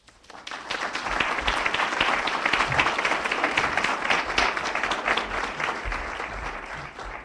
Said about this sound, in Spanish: Muy merecido aplauso a la doctora María Elisa Aspe